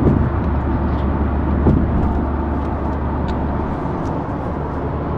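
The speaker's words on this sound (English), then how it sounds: "Get a little bit of the exhaust sound." A 2022 Subaru WRX cruising at 60 mph on a freeway gives a steady, dense drone of exhaust and engine blended with road and tyre noise, heard continuously from inside the car.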